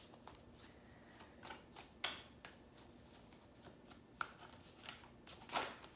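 An oracle card drawn from a deck, faint papery rustles and soft flicks with a few sharper snaps, close and quiet with no voices.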